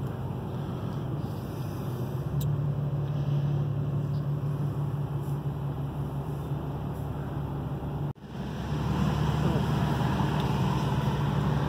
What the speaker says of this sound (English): It's got snow tires on the back, a little noisy highway